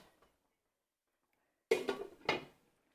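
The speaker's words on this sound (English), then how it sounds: "we're going to give it a little stir" A utensil scraping and clanking inside a pot of turkey goulash being stirred, a short burst of metallic knocks after near silence, close and moderately loud.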